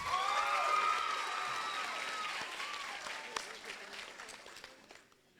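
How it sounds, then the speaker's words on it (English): Audience applause for graduating students at a Miller Middle School 8th grade moving up ceremony, a full burst of clapping and cheers that swells early and then slowly fades away. "Let's give them another round of applause"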